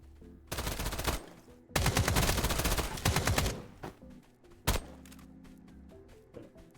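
Fast automatic SMG bursts in the game Escape From Duckov, two long rattling strings followed by a single sharp shot and scattered quieter pops.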